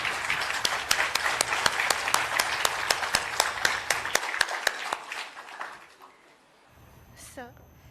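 Audience at an event honouring the Chief Minister of Uttarakhand claps in a loud burst of applause that thins out and dies away after about six seconds, followed by a brief voice.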